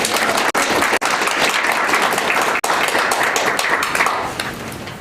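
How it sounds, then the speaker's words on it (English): Applause for students at a city council committee meeting, a steady wash of clapping from the gathered room that holds for most of the stretch, with a few brief dropouts, then fades toward the end. "big round of applause."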